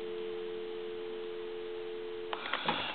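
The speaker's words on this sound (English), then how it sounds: "I'm going to get some dial tone here." Steady dial tone on a German post office telephone connected to a regular line, a continuous low hum running alone for over two seconds before brief clicks and handling noise near the end.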